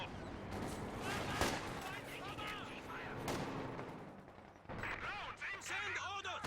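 Artillery shells burst in a Company of Heroes 2 match as a barrage falls in repeated booming blasts, mixed with crashes and gunfire from the battle. A voice commentates over part of it.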